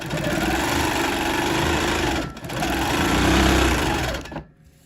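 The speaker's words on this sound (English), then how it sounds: "do a little tacking stitch to get everything locked in" Sewing machine running steadily while quilting tacking stitches, a loud, close, continuous mechanical whir with one brief dip partway through, then stopping abruptly at the end.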